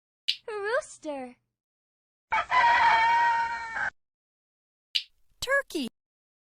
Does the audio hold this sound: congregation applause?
no